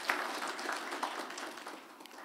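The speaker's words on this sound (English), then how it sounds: "Can we also give them a round of applause, please?" An audience at a diplomacy award ceremony gives a round of applause: soft, dense clapping that is fairly faint and fades slightly toward the end, with no speech.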